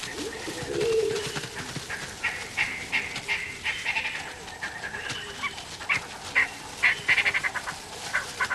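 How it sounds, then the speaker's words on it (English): A pack of African wild dogs in the Okavango gives repeated high, chirping twitters and squeaky calls at moderate distance, in uneven bursts without any talking. "Hunting in packs up to 20 or more, wild dogs are very successful hunters."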